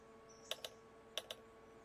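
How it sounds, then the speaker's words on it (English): Two pairs of quick, faint metallic clicks, evenly spaced about half a second apart, as railcars couple together in the Railroader train simulation game, with a steady low hum underneath. "that clicking you hear is probably number 2 hooking up with its cut of cars"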